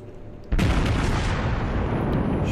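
A North Carolina battleship's main guns fire in World of Warships, a sudden deep boom followed by a long, loud rumbling roar that fills the rest of the moment, with no talking.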